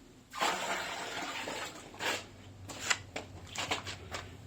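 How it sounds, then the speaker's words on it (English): Water pours off from a bucket during cleaning of old gold concentrates, a steady splashing gush that swells and ebbs with a few louder sloshes, fairly close, with no talking. "so pour some of this water off"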